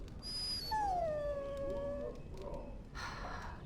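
A dog in the video game Dragon Age lets out a drawn-out, high whimpering whine that slides downward, followed by a softer trailing whine and faint background ambience.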